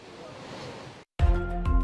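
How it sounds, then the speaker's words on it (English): Surf rolls steadily against a city shoreline, driven by strong winds and four-meter waves. It is a continuous wash that breaks off briefly before louder, rougher sound resumes. "waves hitting the shores of the city"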